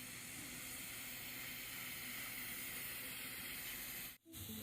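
High-current arc welding by a veteran welder gives off a steady, loud, broadband hiss and crackle that holds evenly, then cuts out abruptly near the end before faintly resuming.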